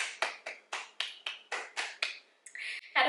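One person claps their hands about nine times in a quick, even rhythm close by, followed by a brief louder rustle.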